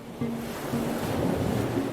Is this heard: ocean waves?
yes